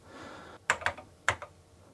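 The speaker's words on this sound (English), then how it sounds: "It feels like a Commodore keyboard" Typing on a C64 Ultimate Commodore-style keyboard: three crisp, close key clacks in quick succession, two nearly together and a third after a short pause, with no talking.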